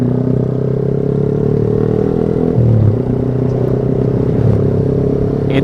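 A motorcycle fitted with an aftermarket racing exhaust rides along an Indonesian road, its engine giving a loud, close, continuous drone at fairly even throttle, with a brief swell partway through and no voices.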